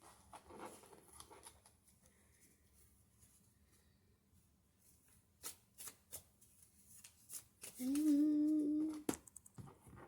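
A deck of tarot cards is shuffled in scattered soft riffles and flicks, fairly quiet and close, with a brief louder tonal whine partway through.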